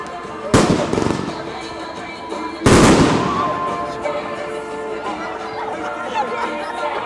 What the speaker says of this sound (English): Flares, fireworks,